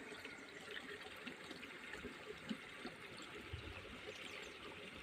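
Water gushing up from an outlet, a steady, soft rushing and trickling flow that stays even throughout, faint and continuous with no voices.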